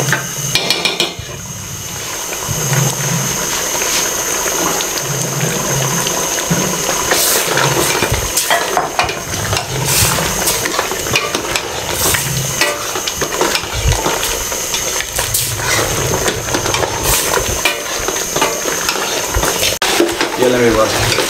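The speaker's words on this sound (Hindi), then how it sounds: "इसको अच्छे तरीके से भून लें, तकरीबन 3 से 4 मिनट इसकी मैं भुनाई कर लूँ अच्छे तरीके से" Beef and dal are fried together in oil in a pan, giving a steady, dense sizzle and crackle that runs throughout with occasional scraping and knocking, under faint talk.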